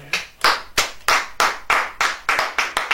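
A church congregation claps in steady unison, about a dozen sharp, loud, evenly spaced claps in quick rhythm, with no voices.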